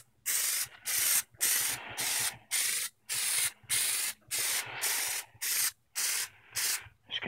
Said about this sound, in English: Just continue like that till the whole thing's sprayed.